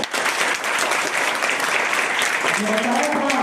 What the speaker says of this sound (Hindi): बहुत बढ़िया, ताली मारो।